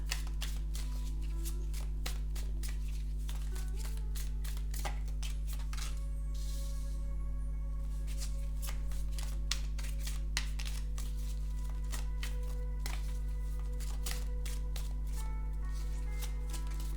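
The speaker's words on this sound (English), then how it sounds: "I'm gonna shuffle the cards and I'm gonna start talking once I feel it's done" Rapid riffling of playing cards being shuffled, repeated crisp flutters close by over a steady low hum, with no talking.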